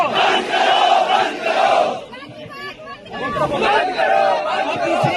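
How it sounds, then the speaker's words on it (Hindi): A crowd of students chants slogans in unison at a protest at Jantar Mantar in New Delhi. Loud rhythmic shouted phrases rise and fall, with a brief lull midway before the chanting swells again. "अभिजीत दीपके जंतर मंतर पर स्टूडेंट की भीड़ तो जुटा दिए हैं"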